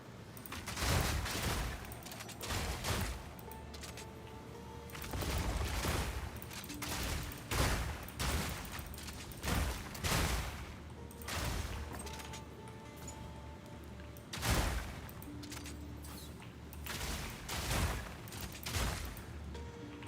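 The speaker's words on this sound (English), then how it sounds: "Who's up there shooting at me?" Video game gunfire crackles in repeated sharp bursts and rapid volleys, with several heavy booming shots spaced irregularly across a long stretch of fighting.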